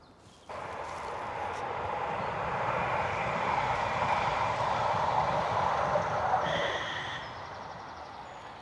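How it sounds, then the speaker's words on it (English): A tram on the old Great Western Railway line in West Bromwich rumbles past with a steady roar that builds and then fades as it enters a tunnel, heard from a path nearby. "there's one of the trams just disappearing into the tunnel"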